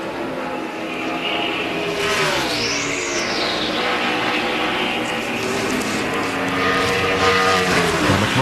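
A NASCAR Sprint Cup stock car on a qualifying lap at Dover roars loudly past, its engine pitch climbing and falling in a clear pass-by sweep, with more engine drone from the track continuing afterward.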